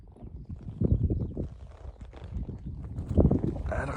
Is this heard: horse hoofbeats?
yes